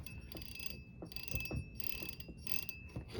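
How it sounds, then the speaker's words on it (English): The clicker ratchet of a Garcia 9200 fishing reel buzzes in rapid, close bursts of mechanical clicking as the spool turns, several spins with brief pauses between them, clear and alone. "let's put that on and see what kind of sound we get out of that clicker"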